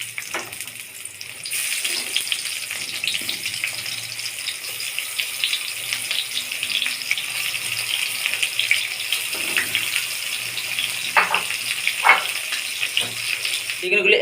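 Eggplant pieces sizzle in hot oil in a frying pan, a steady bright crackling hiss that starts just after the first second and keeps going close up with small pops throughout.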